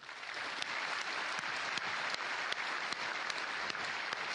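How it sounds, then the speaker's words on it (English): Keynote audience at the 2012 Fanfest gaming convention breaking into applause, a dense, steady wash of many hands clapping that carries evenly through the clip without dying down. "And let's all give him a huge applause."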